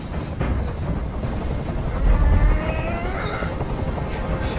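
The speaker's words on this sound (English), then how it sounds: "I can't stand that noise anymore! Tell that helicopter to get out of here!" A helicopter in the Detroit: Become Human video game hovers overhead with a steady, loud rotor drone and rumble, joined by a brief stronger swell midway and some scattered tonal sounds.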